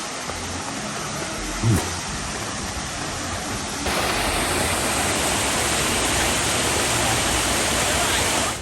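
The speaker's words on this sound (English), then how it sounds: "Torque Waterfall" Torc Waterfall in Killarney National Park roars as a steady, dense rush of falling water, the roar growing noticeably louder partway through; no voices.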